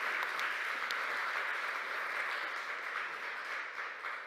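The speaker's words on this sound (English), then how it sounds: "after the applause" An audience at a panel forum on Europe applauds steadily, a dense even wash of many hands clapping at a moderate distance with no voices over it.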